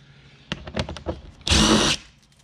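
A power drill spins out 7mm screws from underneath a Corvette, a few short clicking bursts followed by one loud half-second whir of the drill, close by.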